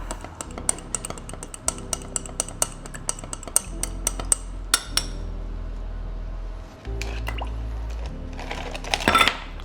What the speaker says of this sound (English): I'll give it a bit of a stir up.